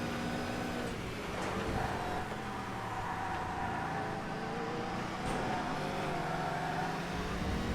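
A race car engine in the TOCA Race Driver 3 video game, racing on the tarmac Brands Hatch circuit, drones steadily and loud through the whole stretch, with shifting tonal revs and no break.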